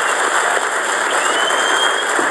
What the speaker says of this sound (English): let's have a very, very warm round of applause for John Culshaw